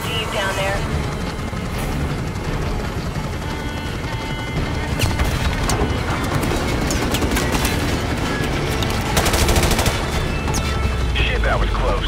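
Call of Duty Modern Warfare Remastered gameplay with dense gunfire and machine-gun bursts, crashes and engine rumble throughout, loud and chaotic with radio voices talking over it.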